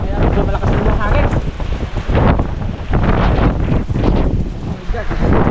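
Strong wind roars loudly and steadily across the microphone at sea aboard a fishing boat, gusting in waves with rumbling low-end buffeting throughout.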